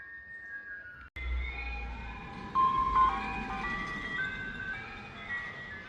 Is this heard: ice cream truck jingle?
yes